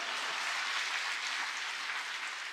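A church congregation at a dawn prayer service claps, a faint, even, distant patter of many hands lasting a couple of seconds, alone without talk.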